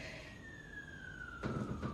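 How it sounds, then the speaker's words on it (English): A faint, distant siren wail sliding slowly downward in pitch, steady against quiet background, with a brief rustle near the end. "hear that siren?"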